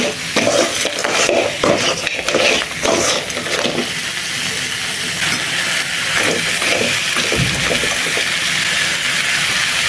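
Crab fry with pepper and cumin is stirred hard in a hot pan: loud, busy scraping and tossing over a continuous sizzle, with no voices.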